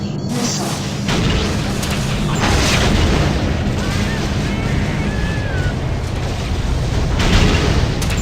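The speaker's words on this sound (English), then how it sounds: "Incoming missile." A missile explosion in the space combat game Freelancer, a sustained, heavy rumbling boom rolling through several seconds with a roaring wash of noise, loud and close, with faint radio-style chatter beneath.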